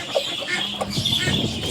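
Hens clucking softly and intermittently close by while eating, with scattered pecking and faint background noise.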